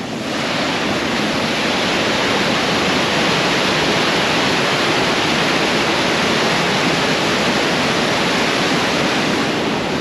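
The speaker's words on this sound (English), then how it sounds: "Now we can see the real waterfall." Steady, loud rush of falling water roaring without pause, a dense wash of white noise close by.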